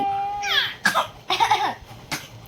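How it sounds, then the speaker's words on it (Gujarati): A child coughs in a few short, harsh bursts close by, with a whiny, crying edge between them. "ઉધરસ આવી જાય છે."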